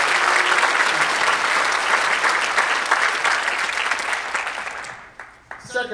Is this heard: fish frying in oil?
no